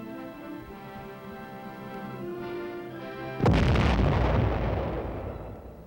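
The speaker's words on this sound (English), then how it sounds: "weapon these soldiers are camouflaging is an 8-inch self-propelled howitzer" An 8-inch self-propelled howitzer fires one loud artillery blast, a sudden boom with a long rumbling decay, preceded by a steady humming engine idle.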